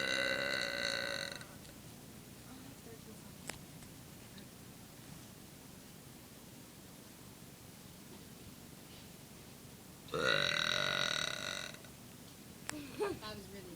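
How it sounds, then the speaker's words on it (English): Two loud, drawn-out burps from one person, the first at the start and the second about ten seconds later, close up with quiet background hiss between them. "I'm gonna burp for you guys."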